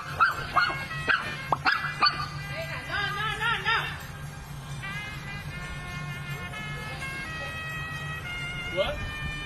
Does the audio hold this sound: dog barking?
yes